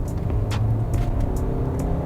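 Hyundai Santa Fe diesel SUV accelerating hard, a loud close engine roar with road noise, steady over the short stretch with no talk.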